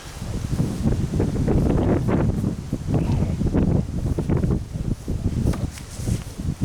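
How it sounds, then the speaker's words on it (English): Outdoor wind gusts buffeting a microphone beside a 24x36 inch canvas left to dry after staining, a steady loud rumbling roar with rustling bursts throughout, no talking. "Hopefully the wind doesn't get under it and cause it to fly away."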